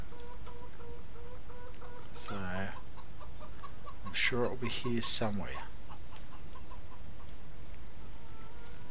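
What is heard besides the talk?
chickens clucking in video game Farming Simulator 17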